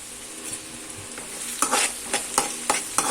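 Salted onions fry in a pan for a potato and drumstick curry, a soft sizzle under several brisk scraping stirs that grow louder toward the end.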